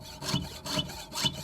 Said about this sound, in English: Just letting the saw do the work.